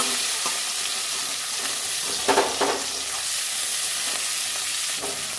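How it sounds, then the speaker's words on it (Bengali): Large-cut onion pieces fry in mustard oil in a pan, a continuous close sizzle with a couple of brief stirring clatters partway through. "বড় বড় কেটে রাখা পেঁয়াজ একটু ভেজে নেব"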